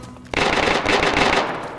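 Gunfire in the survival shooter DayZ erupts suddenly after a quiet moment, a rapid automatic burst of shots rattling loudly for over a second before tapering off, with no voices.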